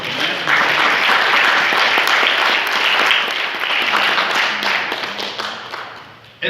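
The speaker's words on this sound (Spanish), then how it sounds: "¿Cuánto aplaudan al Señor?" A church congregation applauds together during a sermon, a dense, steady wash of clapping that holds strong for about five seconds before thinning and tapering off.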